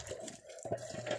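Water runs from a tap at a household water-filling point. A soft, steady stream sounds throughout the short span and dips briefly in the middle, with faint background noise and no talk.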